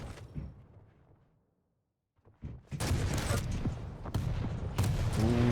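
Rocket launcher blasts and rapid lightning gun fire in a Quake Champions duel, a short burst, then a quiet gap, then dense, loud continuous weapon fire and impacts.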